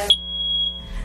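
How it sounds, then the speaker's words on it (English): A household smoke detector being tested gives off a single piercing electronic beep that holds steady for about half a second, close and loud, then falls away into quiet. "That's the sound of a working smoke detector."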